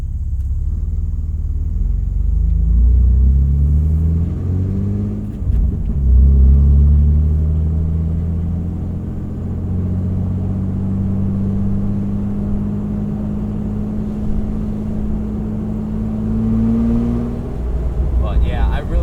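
A loud, deep Jeep TJ engine rumble with throaty muffler-delete straight-pipe exhaust rises and falls through manual gear changes while driving, steady and close throughout.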